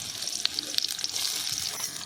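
Chopped onions dropped into hot oil in a kadhai at an outdoor jungle cookout, crackling and sizzling in quick bursts with fizzy pops, fairly soft and near.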